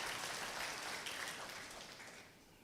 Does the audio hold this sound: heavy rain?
no